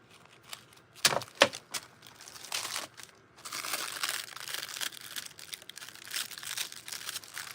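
Textile foil being cut off a baseball cap, with scattered close crinkles and sharp snips followed by a longer stretch of soft rustling and crumpling, quiet and without speech.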